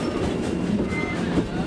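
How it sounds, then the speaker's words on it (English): A train runs along the V&T Railroad track, heard from on board as a loud, continuous rumble with rolling wheel clatter and no voices. "Now we've all boarded the train and we're going to run up the track a little ways"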